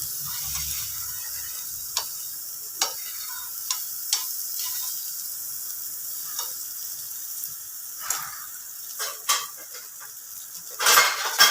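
Paneer, spinach and fenugreek paratha filling sautés in butter in a pan, a steady sizzle running throughout with sharp spatula ticks and scrapes at irregular intervals and a louder clatter of stirring near the end; no talking.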